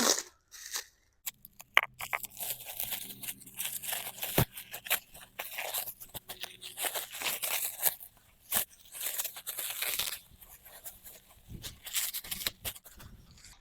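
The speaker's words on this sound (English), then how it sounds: "So let's get these unwrapped out in the backyard and planted." Plastic wrapping is torn and crumpled off a bare-root tree being planted in a backyard, with close crinkling, ripping and crunching bursts coming in uneven spurts throughout.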